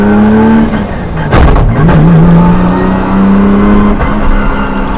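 Nissan Skyline R34 GT-R with a sequential gearbox, its engine droning steadily up close with a rising rev and a quick shift burst partway through, then settling back into a constant cruise note.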